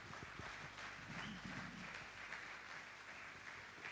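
A church congregation at a national men's day gathering claps and cheers together in a dense, steady roar of applause, fairly distant and even throughout with no clear voices.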